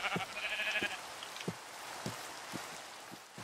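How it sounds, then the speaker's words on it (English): A Minecraft sheep gives a single bleat at the start, followed by soft, evenly spaced footstep taps in a quiet setting. "These two white sheep will do nicely, Abel."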